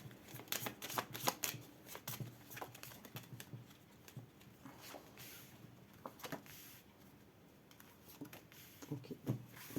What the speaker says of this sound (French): Je vais vous prendre 4 cartes.